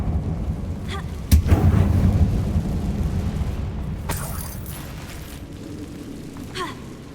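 A Confringo blasting spell explodes inside an abandoned mine in Hogwarts Legacy, a single sudden loud boom followed by a long rumbling decay, with a brief cry before it and faint debris later.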